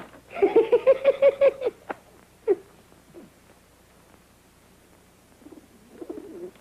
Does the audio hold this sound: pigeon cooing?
yes